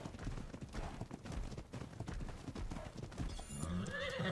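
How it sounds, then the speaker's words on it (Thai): Hoofbeats of a horse in the video game ARK Survival Evolved, busy clip-clopping under game noise, then a loud whinny near the end, up close with no talk. "ผมจับม้าได้แล้ว"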